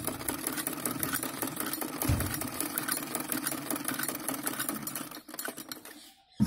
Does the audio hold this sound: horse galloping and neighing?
no